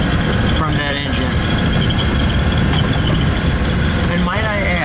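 A supercharged 1936 Auburn 852 cabriolet engine idles with a steady, dense rumble, heard from inside the car while people talk over it.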